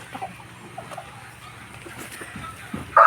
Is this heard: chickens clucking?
yes